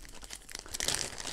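A plastic bag crinkles up close as balls are unpacked from it, a brief burst of rustling and crackling that grows sharper toward the end, with no talk.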